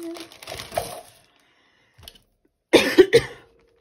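One person coughs from dust in a few rough bursts, goes quiet for a moment, then gives a louder, harsher fit of coughs close by.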